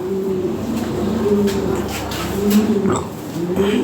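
Lahore pigeons cooing close by, a breeding pair in a loft, with repeated low rolling coos that swell and fade in a steady rhythm over faint background noise.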